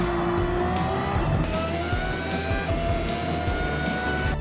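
A Genesis VGT race car laps Circuit de Saint Croix in Gran Turismo 7, its engine droning loud and steady with shifting pitch as it coasts and gets back on the throttle, with no talk.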